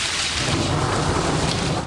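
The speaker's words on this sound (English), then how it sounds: "Rare thunder snow booming in western Wisconsin" Rare thunder snow during a late-winter blizzard in western Wisconsin: a loud, continuous rumbling roar filling the whole clip with no pauses, no voices.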